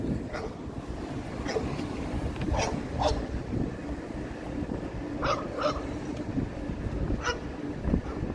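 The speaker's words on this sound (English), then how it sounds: "Why is that car making barking sounds?" A dog barks several times, muffled and somewhat distant, over a constant low rumble and wind-like roar from a moving vehicle.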